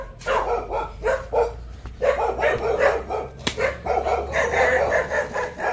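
A tied-up dog barks steadily and persistently close by, in quick repeated bursts that continue throughout with only brief gaps.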